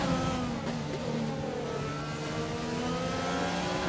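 Race cars in a Bahrain racing video game rev and whir close together as one moves up the inside to overtake, a steady engine drone with rising and falling pitch, loud and continuous.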